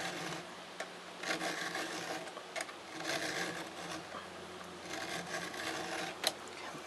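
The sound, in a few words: hand file sharpening chainsaw cutter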